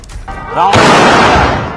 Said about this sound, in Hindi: ये 2 राउंड दागे जा रहे हैं